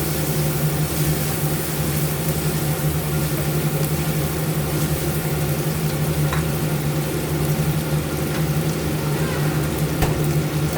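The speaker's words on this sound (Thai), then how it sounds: "เราจะผัดหมูสับก่อนนะคะ" Minced pork stir-frying in a hot pan gives a steady, continuous hiss and crackle of sizzling fat that stays even and close from start to finish, with no talking.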